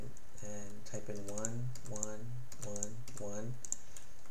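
Keys click on a computer keyboard in quick bursts, with a man's speech running over the typing throughout.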